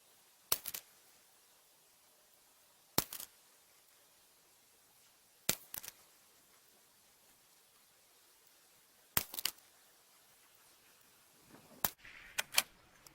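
A Ruger Precision Rimfire rifle fires SK Long Range ammunition in five sharp, separate cracks a few seconds apart, then a tighter cluster of faint clicks near the end, with quiet between shots and no talk.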